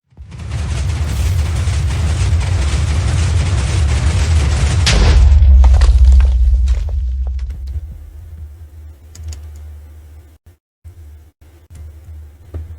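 Minecraft TNT from a bomb machine blows up in a loud, sustained roar of blasts that rumbles heavily, then decays into a low fading rumble with scattered small pops.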